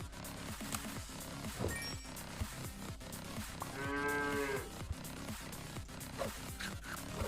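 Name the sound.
cow mooing in the video game Super Auto Pets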